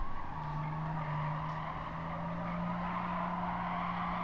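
A race car in Gran Turismo 7 brakes hard and its tires skid, producing a sustained, steady squeal over engine noise that holds for several seconds without any talk.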